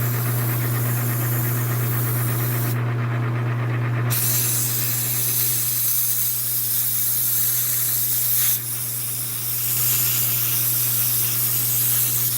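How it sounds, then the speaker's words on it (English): Aerosol cleaner hisses in a steady, loud close-up spray while blowing off a knurled metal part, running almost unbroken for about twelve seconds over a constant low hum, with no talking. "I'm fixing to blow it off with some cleaner"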